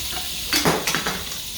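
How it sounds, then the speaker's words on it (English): Oil and butter melt in a pan beside a lobster dinner, a soft sizzle under a few light clinks of a utensil against the pan, close and fairly quiet. "I add some oil and 2 tablespoons of butter. I'm gonna let that melt for a little."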